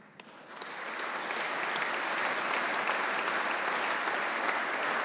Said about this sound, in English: I want you to stand up, I want you to take a bow, I want you to accept the applause